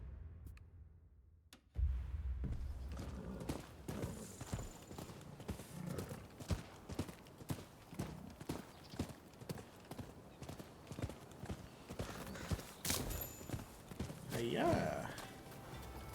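Horse hooves clip-clop steadily in the video game Rise of the Ronin as a stolen horse is ridden across open land, a close, regular rhythm of hoofbeats running throughout with brief talk and a whinny near the end.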